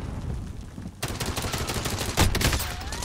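Heavy Warzone gunfire erupts after a second of low rumble: dense, overlapping shots from several weapons, loud and close, with one sharp louder blast near the middle.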